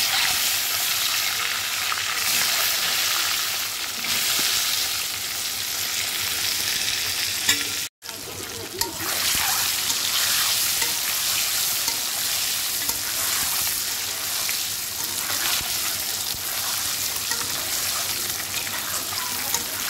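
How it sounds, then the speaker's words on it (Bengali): Eggs frying in mustard oil in a pan give a steady, loud crackling sizzle that runs throughout with no pauses except one brief cut, and no one speaks over it. "আমি প্রথমেই ডিমগুলো সুন্দর করে ভেজে নিচ্ছি।"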